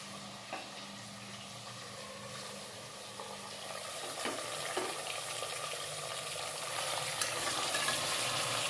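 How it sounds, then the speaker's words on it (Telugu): Chicken fries in hot oil with spices and green chillies, a soft continuous sizzle with occasional faint scrapes and clicks, fairly quiet and close, slowly growing a little louder, with no voices. "ఇప్పుడు చికెన్ అయితే వేసుకుందాం"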